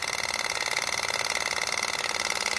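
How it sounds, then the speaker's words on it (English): A manually hooked-up oil pump on a Honda 400ex quad runs with a steady, dense mechanical whir and rapid pulsing, loud and continuous with no talk. "You can see it's pumping"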